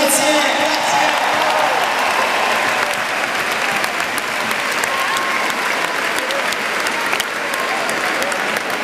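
A large arena crowd at a rock concert in Milan's Forum applauds the stage technicians, a loud, continuous wash of clapping and cheering that fills the hall from start to finish.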